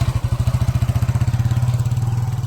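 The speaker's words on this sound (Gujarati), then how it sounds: "અમે બાઇકમાં જઈએ છીએ." Motorcycle engine running steadily close by, a fast regular pulsing putter that stays loud and even throughout, with no talking over it.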